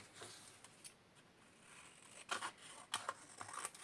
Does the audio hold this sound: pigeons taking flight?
no